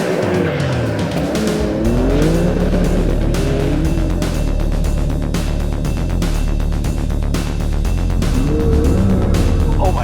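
A Porsche 911 Dakar on off-road tires drives hard off the pavement, its engine loud and close with rising and falling revs over a constant rough gravelly roar from the wheels.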